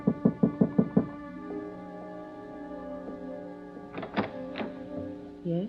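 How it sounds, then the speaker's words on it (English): Knocks land on a hotel room door, a quick run of six firm raps at the start, followed by a sustained musical tone and a couple of later thumps. "then I knocked on her door."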